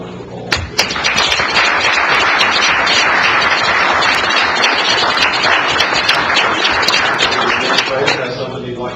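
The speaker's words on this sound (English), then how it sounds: "Please join me in giving these folks a round of applause." Sustained applause from an audience at a city council meeting, dense clapping that holds for several seconds, close and loud, with a few thumps at the start.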